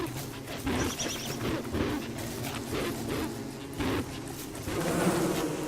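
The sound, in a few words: bees buzzing in the video game Don't Starve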